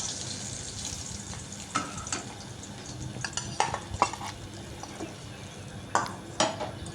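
Fried fish heads are lifted out of hot oil in a pan, with a utensil clinking and scraping against the metal in scattered sharp knocks over a low, steady sizzle.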